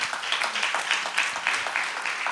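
A church congregation claps in praise during a Spanish-language service, a brief burst of many hands clapping in a fairly steady, slightly ragged rhythm at moderate distance.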